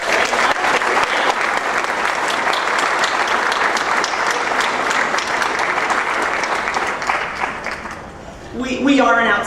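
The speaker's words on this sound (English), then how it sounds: "So would you give these two a round of applause," Loud, sustained applause from an audience at a class reunion, with dense clapping that holds steady before tapering off near the end, as a voice starts speaking over the fading claps.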